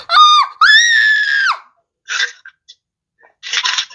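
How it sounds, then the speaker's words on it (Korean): A person screaming, two loud high-pitched sustained shrieks close up, followed by a short pause and then a few breathy noisy bursts. "뭐야 비명 소리"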